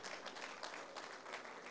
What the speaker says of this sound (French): Applaudissons le Seigneur, s'il vous plaît.